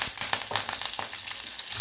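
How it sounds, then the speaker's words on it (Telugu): Mustard seeds, garlic cloves and curry leaves frying in hot oil for a tempering on a dosakaya tomato dal, giving a steady close sizzle with scattered crackles and pops throughout. "ఇప్పుడు అదేవిధంగా తాలింపు గింజలు వేస్తున్నాను. ఇవి చక్కగా ఫ్రై అవ్వాలి మనకి."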